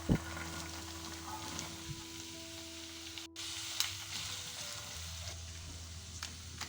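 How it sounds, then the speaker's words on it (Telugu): Boiled chickpeas tumble into a pan of fried onions and get stirred, a steady soft sizzle with scraping spoon strokes running throughout, moderately quiet and without any voices. "ఇప్పుడు ఆనియన్ మంచిగా వేగగానే ముందుగా ఉడకబెట్టిన శనగలని యాడ్ చేసుకొని మంచిగా మిక్స్ చేసుకోవాలి."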